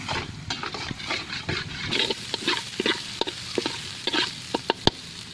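Finely chopped onion sizzles in a pan for chicken keema while a spoon stirs and scrapes in irregular bursts, with sharp clacks against the pan over a steady frying hiss.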